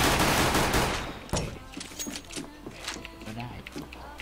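Rapid video game gunfire, a dense loud burst at the start followed by scattered shots, under excited talk from a player.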